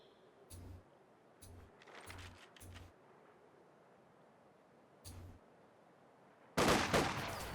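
Squad gunfire from camouflage in the Company of Heroes strategy game: four short bursts of rifle and machine-gun fire in quick succession, then another burst after a pause and a louder, denser volley at the end, with no speech.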